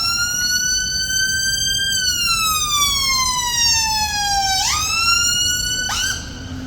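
Loud siren of an ambulance on a crowded street, a steady wail that sweeps down in pitch over several seconds, then jumps up twice sharply before the tone cuts out.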